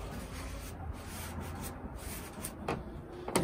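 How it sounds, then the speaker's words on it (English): A cloth or scraper wipes the grease trap entrance of a Blackstone griddle, giving a soft continuous rubbing and scraping with a few sharper strokes near the end, close and fairly quiet. "now the last thing I do is wipe the grease trap entrance here"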